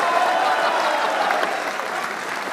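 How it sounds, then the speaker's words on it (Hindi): A studio audience claps steadily for a cricket talk show host, a dense even wash of applause that holds without pause for a couple of seconds. "आपकी तालियां बधाएंगे आप उनसे कितना प्यार करते हैं"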